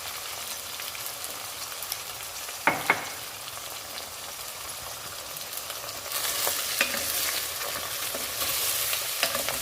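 Eggplant, onions and green chillies are stirred together in a frying pan with turmeric and salt for an egg-and-eggplant stew, giving a steady close sizzle with a few sharp scrapes of the spoon and a louder frying hiss later.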